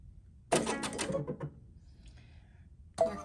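A machine's carriage moves after power-up in two short, quiet mechanical bursts of whirring and clattering, separated by near silence.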